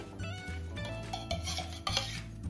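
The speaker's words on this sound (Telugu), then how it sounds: "ముందుగా స్టవ్ ఆన్ చేసుకొని ప్యాన్ పెట్టుకుని" A metal pan set onto a home kitchen stove, with a few close clinks and scrapes of cookware over a quiet, steady hum.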